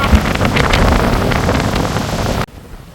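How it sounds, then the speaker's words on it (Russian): Strong wind at the seashore roars as heavy, continuous buffeting across the microphone with a surf-like rush, then cuts off abruptly near the end. "И ветер вздыбливает песок."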